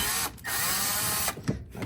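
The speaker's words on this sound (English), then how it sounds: "next thing you want to do is unbolt your gearbox" Power drill unbolting the gearbox of a Power Wheels ride-on toy car, loud close whirring bursts with two short pauses between runs.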